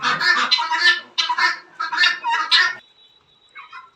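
Several broiler chickens squawk and cluck loudly up close in a burst of calls, then go quiet before one brief final cluck.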